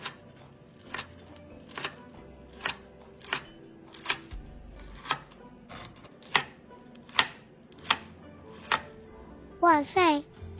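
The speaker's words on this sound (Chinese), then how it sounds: "切片后即可享用了" A knife slices through deep-fried pork belly on a board in about a dozen evenly spaced crisp cuts, with a short burst of voices at the end.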